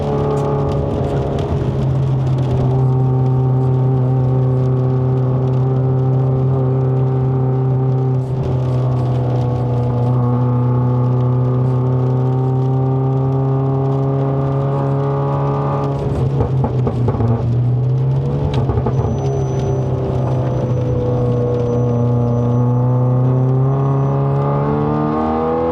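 Toyota GT-86 GR-S with a 6-speed automatic climbing a mountain road up to Genting in Malaysia, its engine droning loudly and steadily from inside the cabin, pitch slowly rising with revs, dipping briefly around a gear change before climbing again.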